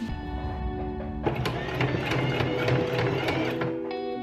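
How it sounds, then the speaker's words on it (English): A sewing machine runs a zigzag stitch along a folded band of stretch sequin fabric, with a steady mechanical whir and rapid needle clatter between quieter motor hum at start and end. "I folded down the top band and I'm just stitching it down with a zigzag stitch"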